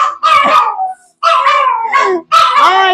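A dog howls indoors in a home kitchen in three loud, close, wavering bursts with yelping edges, separated by brief pauses. No other sound competes.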